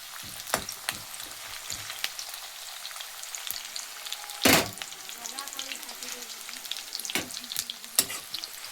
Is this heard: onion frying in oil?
yes